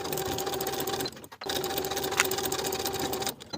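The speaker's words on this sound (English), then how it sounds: "Sew together with a 1/2 inch seam allowance" A sewing machine runs a seam with a half-inch allowance along a lined coat's pocket bag, a close, loud, continuous whir broken by one brief stop before resuming, then easing off at the end.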